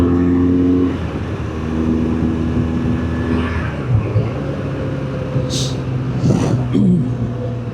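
A heavy BMW touring motorcycle on Dunlop TrailMax Mission tires accelerates to pass on an open road, a loud steady engine drone with rising revs under constant wind rush and a passing vehicle whoosh near the end.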